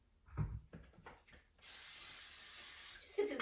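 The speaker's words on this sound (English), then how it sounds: "I'm just gonna put a little spray inside my pan" Cooking spray hisses from a can into a waffle maker pan in one steady burst of about a second and a half, close and fairly loud, after a few soft kitchen knocks.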